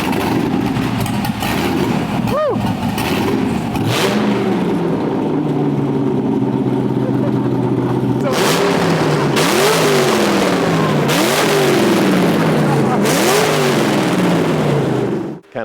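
An LS-swapped Porsche 996 with open headers, a loud, raspy V8 idle cut by a sharp blip, then a run of repeated throttle revs rising and falling in rhythm, close up with no talking.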